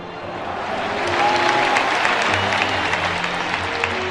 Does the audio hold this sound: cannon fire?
no